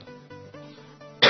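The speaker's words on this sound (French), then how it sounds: "J'ai une petite toux" A single short, sharp cough bursts out at the end, after a quiet stretch of soft tonal background sound.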